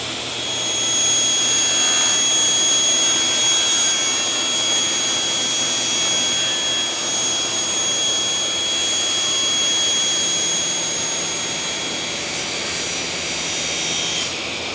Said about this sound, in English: Dust collection on.